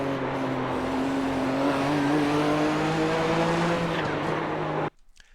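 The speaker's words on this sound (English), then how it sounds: "from fourth down into third, there's the downshift to third right there" A Nissan GTP ZX-T prototype race car on the Nürburgring Nordschleife in iRacing, its engine droning loud and steady with rising pitch before cutting off abruptly as it downshifts from fourth to third.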